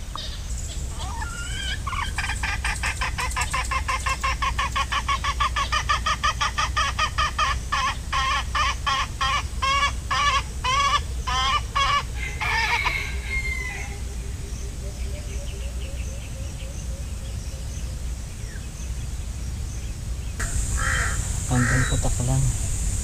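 Wild junglefowl (labuyo) clucking at a trapping site with a decoy bird: a long series of sharp, rapid, repeated clucks for about ten seconds, then scattered fainter calls over steady outdoor background noise.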